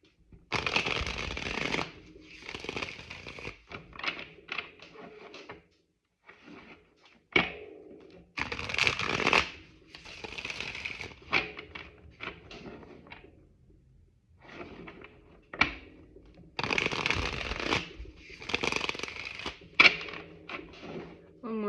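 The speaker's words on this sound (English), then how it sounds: "I'll start shuffling to get cards to come out" Tarot cards are shuffled by hand in crisp, irregular bursts of riffling and snapping, with several longer flurries separated by brief gaps, close and fairly loud.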